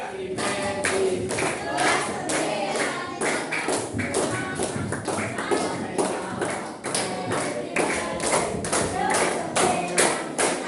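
A classroom of children claps together in rhythmic, sustained bursts, loud and close, with the steady pattering of many hands filling the room throughout.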